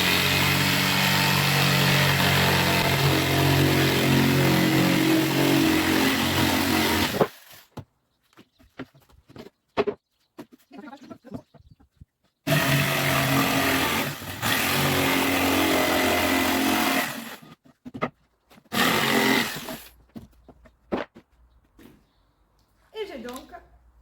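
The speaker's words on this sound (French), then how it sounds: "à l'aide de la scie sauteuse, on va vraiment suivre notre ligne qu'il y a au crayon" A jigsaw runs loudly in long buzzing bursts cutting OSB board, stopping and restarting, with quieter gaps and brief knocks between the cuts.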